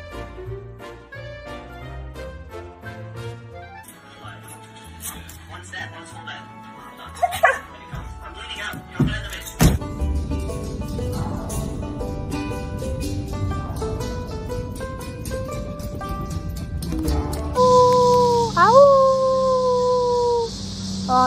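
A dog howls and whimpers in drawn-out, wavering cries, with short yips and barks mixed in and people talking nearby.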